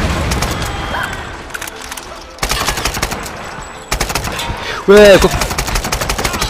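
Repeated loud bursts of gunshots in Tomb Raider, clustered volleys with short pauses between them, close and sharp, with a brief spoken word and a sudden boom near the end.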